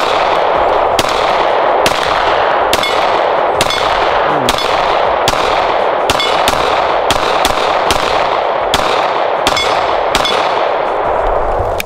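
An M17 striker-fired pistol fires on a range in a long series of loud, sharp reports at an uneven, steady pace, with the shots ringing out over constant background noise.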